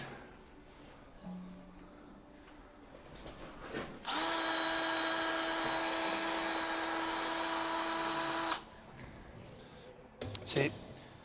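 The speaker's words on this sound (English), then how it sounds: "doing the wheel torquing, we've got at least there on this one wheel, there's 5 so far" A power tool torques a vehicle's wheel nuts during servicing of a Broughan, a single steady high whine lasting about four seconds, close and loud, with quieter clicks and movement before and after.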